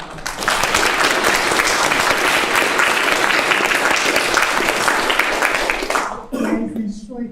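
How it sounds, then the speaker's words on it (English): Sustained, loud applause from an audience thanking the panelists at the close of an astronomy career panel, a dense wash of clapping for about six seconds before it stops and a voice speaks briefly. "Can everyone join me in just giving a massive round of applause to all the panelists?"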